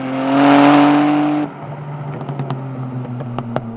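A Totem Automobili GT Super's twin-turbo V6 revs high, howling loudly for about a second and a half, then cuts off abruptly, leaving a lower idle with sharp pops and crackles.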